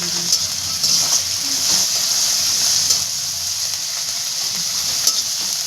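Ginger paste fries in a pan for vegetable dal, a loud, close hiss and sizzle with a few stirring scrapes, steady from start to end.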